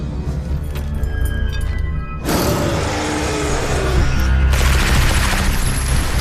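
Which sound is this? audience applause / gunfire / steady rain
gunfire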